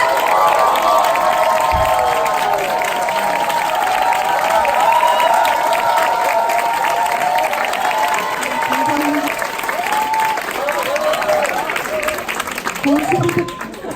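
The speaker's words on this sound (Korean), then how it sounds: "큰 박수로 모셔보도록 하겠습니다." A large audience at a business leadership lecture greets a speaker with loud, sustained applause and cheering, a continuous roar of clapping with crowd voices and a melodic tone running beneath it.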